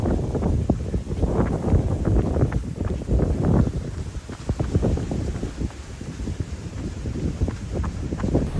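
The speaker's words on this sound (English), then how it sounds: "Pretty breezy out here." Strong outdoor wind buffeting the microphone, a continuous loud, close rumble of gusts and thumps that swells and eases without pause and carries no speech.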